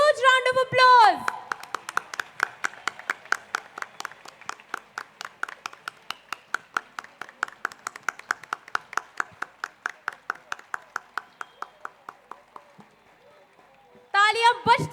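At a school annual concert, the audience claps for the mask act students in steady, even unison beats that fade gradually, with a voice speaking briefly at the start and again at the end.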